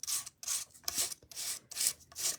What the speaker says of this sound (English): If you sand it a little bit, you get some white highlights because the sanding, and I'm just using an emery board